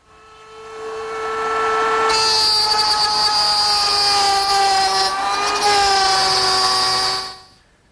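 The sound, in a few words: router table cutting a groove in wood frame parts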